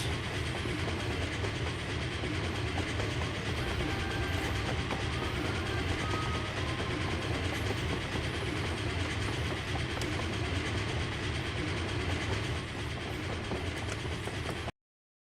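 A train rolling past in the Wild West battle royale game Grit, a continuous loud rumble with rhythmic clickety-clack of wheels on rails holding steady throughout before stopping abruptly.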